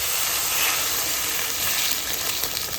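Chicken pakoras in a spice masala sizzle and fry steadily in a pan as water goes in, a dense, close hiss with a faint steamy crackle throughout, no voices.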